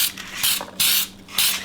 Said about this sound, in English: And I'm going to spray this a little bit.